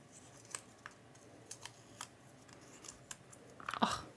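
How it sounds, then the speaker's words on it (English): Post-it tape peeled away, with small scattered ticks and crinkles before a louder ripping scrape near the end, close and quiet. "just removing that post-it tape"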